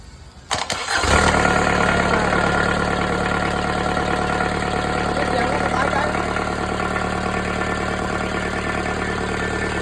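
A used Japanese Kubota V1505 four-cylinder 32-horsepower diesel engine cranks briefly, then catches and settles into a loud, steady, rumbling idle heard up close on its own.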